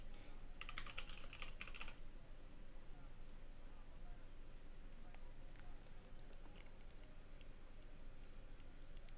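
Typing on a computer keyboard comes through as faint, quick clusters of key clicks, strongest at the start and then scattered lightly under a low background hum.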